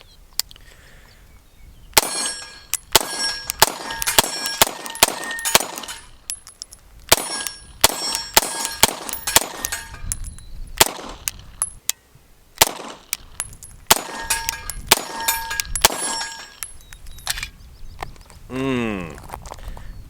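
A Beretta 92Xi pistol with frame safety in single action is fired in steady bursts of loud, sharp shots with metallic ringing clangs, a brief pause between strings and a faint rumble near the end.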